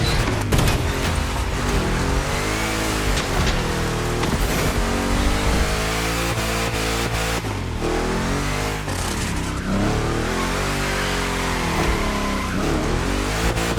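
A powerful big-block car engine in The Crew Motorfest, driven through a Gymkhana trick course, revs loudly and continuously, rising and falling in pitch as it accelerates, with no talk.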